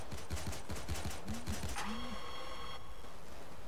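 Rapid bursts of automatic gunfire from turrets in the video game Payday 2, a rattling fusillade that stops abruptly and leaves a lingering electronic ringing tone.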